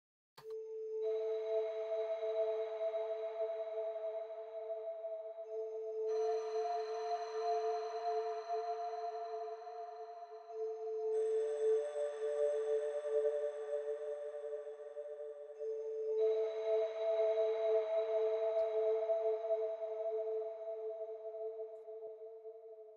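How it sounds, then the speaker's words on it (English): Soft, sustained synth bell tones ring out in slow overlapping chords, shimmering and washed in long Valhalla Supermassive reverb tails, with no voices. "I've used those bells and I turned off the internal reverb"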